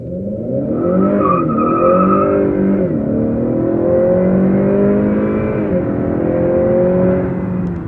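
A 2019 Honda Accord accelerates hard from a standstill in a 0-60 run, its engine note rising in pitch through several gear shifts with brief dips between them, loud and close from inside the car, with no talking.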